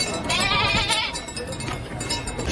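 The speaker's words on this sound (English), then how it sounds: "Sheep!" Sheep bleat in drawn-out, wavering cries from a played video of people dressed as sheep singing carols, loud and continuous with overlapping calls.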